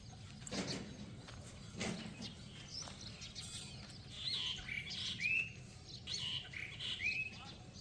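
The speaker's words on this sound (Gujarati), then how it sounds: "અત્યારે 4 કોરથી અલગ અલગ ચકલીઓના અવાજ આવે છે" Sparrows chirp around a village cowshed, faint and somewhat distant, with scattered tweets that grow busier in the second half over a low background rumble.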